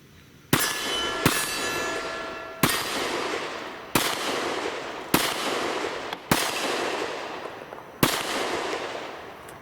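A Smith & Wesson M&P Shield M2.0 pistol with a 357 SIG conversion barrel fires eight sharp, loud shots at a slow, uneven pace, each followed by a ringing clang from a steel target.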